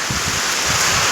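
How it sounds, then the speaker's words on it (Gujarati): Strong wind mixed with rain roars steadily across open farmland, a dense continuous rush buffeting close to the microphone. "પવને ફૂલ છે અને વરસાદની પવન બી ભેગું છે."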